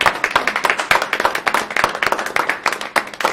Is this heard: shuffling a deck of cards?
no